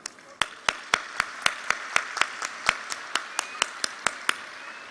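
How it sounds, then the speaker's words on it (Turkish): An audience at a graduation ceremony gives the graduates' parents a slow, steady round of rhythmic clapping. The sharp, evenly spaced claps ring out in a reverberant hall. "Gelin isterseniz anne ve babalarınızı da biz alkışlamış olalım."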